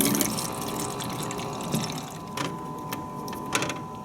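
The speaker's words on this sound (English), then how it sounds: "I'm going to fill up my reusable bottle of water." Hotel water dispenser fills a reusable water bottle with a steady rushing pour and pump hum, broken by a few brief clicks and knocks near the end.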